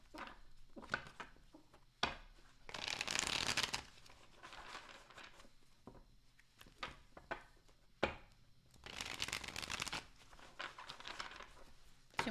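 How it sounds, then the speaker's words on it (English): Tarot cards are shuffled at a reading, two bursts of crisp riffling and flapping about two seconds long each, separated by quieter soft handling taps, close and fairly faint with no talking. "Two more shuffles."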